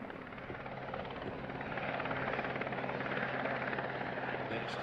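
A Westland Sea King helicopter flies a display at an air festival, its rotor and turbine roar steady and loud throughout, swelling slightly as it nears, with no voices.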